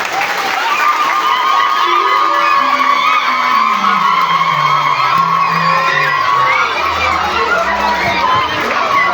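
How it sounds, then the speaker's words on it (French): A crowd of schoolchildren at a back-to-school mass cheers, whoops and claps for a priest, a loud continuous wash of voices and applause with sliding shouts running throughout. "Applaudissons pour l'abbé Séverin."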